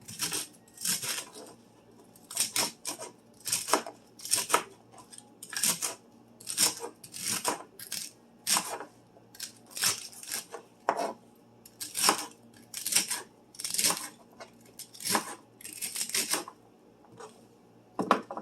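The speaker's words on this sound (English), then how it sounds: "Go ahead and chop up your celery. I do it about a 1/2 inch thick." Knife chopping celery into pieces about half an inch thick for a crockpot beef stew, a steady run of sharp, close cuts on a board with brief pauses between groups of strokes.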